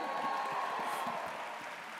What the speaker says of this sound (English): A round of applause for my gorgeous wife.